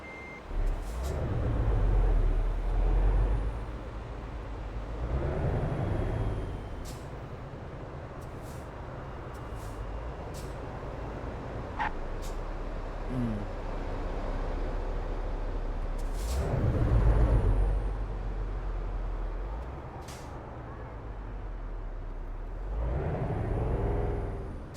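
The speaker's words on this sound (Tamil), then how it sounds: "சிமெண்ட்டு வண்டி ஸ்டார்ட் பண்ணலாம்." A cement silo truck in Euro Truck Simulator 2 rumbles with a deep, steady diesel engine note. The note swells at times, and sharp air-brake hisses and short beeps break in now and then.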